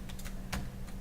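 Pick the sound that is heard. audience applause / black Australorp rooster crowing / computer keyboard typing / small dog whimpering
computer keyboard typing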